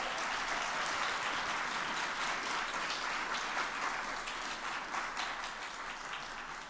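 An audience applauding at a medical college honors night: a dense, sustained wash of many hands clapping throughout, moderately distant and even, fading slightly toward the end, with no speech.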